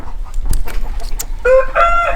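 Farm chickens cluck in short bursts, then a rooster crows loudly and close, with other poultry nearby in a chicken, duck and turkey area.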